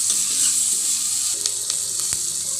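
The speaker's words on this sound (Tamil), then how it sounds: "உப்பு சேர்த்தா கொஞ்சம் வெங்காயம்லாம் வதங்கும், நல்லா வதக்கிடுங்க." Chopped onions sauté with salt in a pan for tomato black pepper rasam, a constant bright sizzle with a few stirring scrapes, close and alone.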